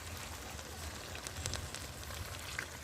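Chicken pieces sizzle steadily in a hot pan for a chicken kosha curry, a dense crackling hiss with small pops throughout, fairly close, with no talking.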